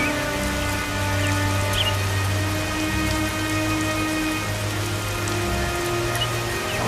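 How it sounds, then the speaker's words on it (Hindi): Heavy rain with big drops pours down steadily in a cartoon, a loud, dense wash of patter with a low background hum running under it throughout, no voices. "बड़ी बड़ी बूंदों के साथ जोरदार बारिश शुरू कर दी"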